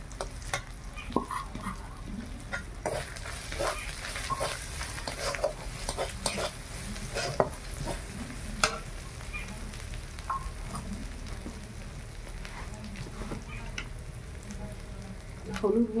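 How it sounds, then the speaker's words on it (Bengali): Onion and garlic with added coriander and cumin powders sizzle steadily in a pan, with frequent scraping stirs across a continuous frying hiss, close and moderately loud, no talking. "পেঁয়াজ রসুনটা খুব সুন্দর ভাজা হয়ে গেছে। এবার ধনে গুঁড়ো জিরে গুঁড়ো দিয়ে দিলাম।"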